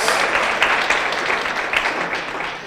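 Applause from an audience at a women-in-leadership talk marking a tenth anniversary, a dense, steady patter of many hands clapping continuously throughout at moderate loudness with no voices on top.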